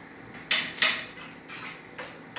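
A metal spoon and tongs knock and scrape against a pan while meat and vegetables are mixed for shepherd's pie, giving a few sharp separate clinks over a quiet background.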